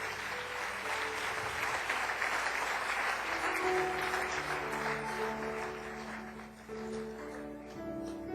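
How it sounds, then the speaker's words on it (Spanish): Loud, sustained applause from a church congregation, steady and dense throughout, with faint tonal background sounds underneath. "denle un aplauso bien fuerte"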